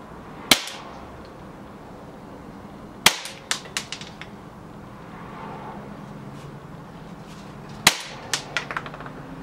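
An airsoft pistol fired in a backyard, three sharp snapping shots spaced seconds apart, each followed by a few faint ticks of BBs striking, over quiet outdoor ambience.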